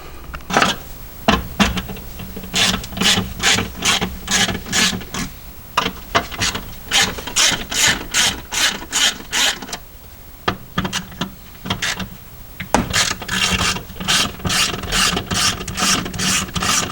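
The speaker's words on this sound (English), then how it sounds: "I'm going to undo these 3, look like 10s or 12s, and then get under there" A ratchet works on 10 mm bolts under a Lexus LS430 during a fuel pump replacement, producing rapid, repeated clicking bursts in steady rhythmic runs with short pauses, close and clear, with no talking.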